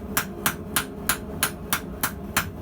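A blacksmith's hammer strikes metal while forging square and round twists held in tongs. Eight sharp, ringing blows land at an even pace, about three a second, close and loud with nothing else heard.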